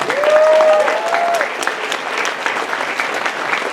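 An anime convention audience applauds at a closing ceremony, a crowd of clapping heard alongside a brief whistle-like tone near the start, then fading steadily.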